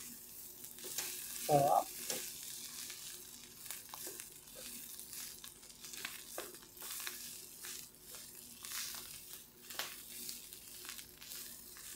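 Sunny side-up eggs fry quietly in a pan with a soft, continuous crackle and a few sharper pops. One short spoken word cuts in near the start, and a crinkling handling noise briefly rises over the sizzle.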